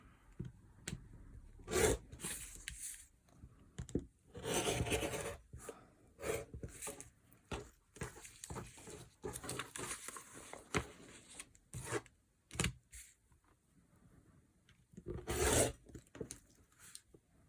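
Quilt block being trimmed after pressing, giving a series of brief scraping and rubbing cuts with short pauses, close up and fairly quiet with no talk.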